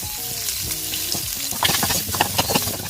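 Cinnamon, two bay leaves and a large onion fry in oil left over from frying potatoes. A loud, continuous close sizzle is broken by the clatter of stirring, and no one speaks.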